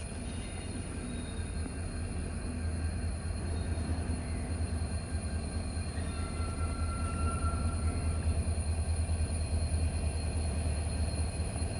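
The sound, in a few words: WDG4 diesel locomotive arriving at platform 3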